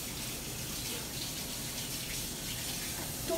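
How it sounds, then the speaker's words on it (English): Water gushes steadily from a kitchen tap while hands are washed beneath it, a close, continuous rushing stream with a slight splash near the end. "I'll wash my hands."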